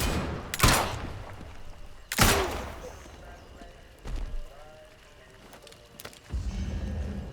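Gunfire in the video game Atomfall, a couple of sharp close shots followed by softer thuds and a later burst, with speech around them.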